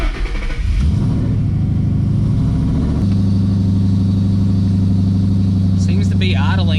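A car engine running on a BAMA Ghost Cam tune settles into a steady, loud idle after a brief rise in revs at the start, with a deep continuous rumble and faint voices near the end.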